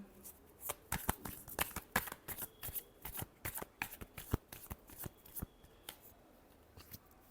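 Tarot cards being shuffled by hand, a run of crisp riffling flicks and soft slaps in a quick, uneven rhythm, close and clear with no talking over it.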